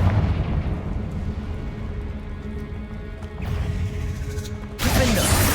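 Confringo fire spell blasts in Hogwarts Legacy, a dense rumbling barrage of explosive booms with a sharp loud burst near the end, no speech.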